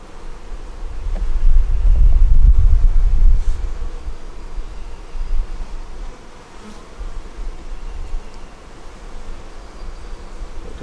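A dense, loud buzzing of honeybees around a frame lifted from a deep eight-frame hive with a super, swelling and fading continuously outdoors, with some wind rumble on the microphone.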